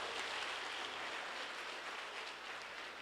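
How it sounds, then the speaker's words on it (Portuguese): Steady broadband applause fills a church service congregation, dense and sustained clapping from many hands at a moderate distance, holding evenly throughout without talk. "dá um aplauso forte a Ele"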